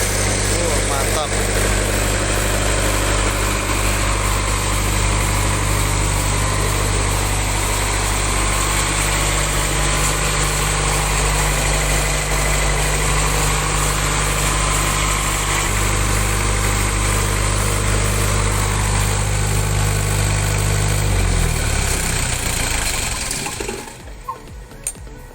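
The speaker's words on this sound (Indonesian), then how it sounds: "kita coba gensetnya ya teman-teman" A generator driven by a dump truck engine runs at a steady idle, a loud continuous rumbling drone with a constant low hum that holds unchanged for over twenty seconds, then cuts off abruptly near the end.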